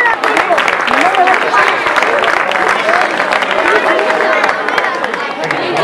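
Applause and cheering from a crowd of parents at a youth cross-country race awards ceremony in Larraga, Navarra, steady and fairly loud for the whole stretch, mixed with general crowd chatter.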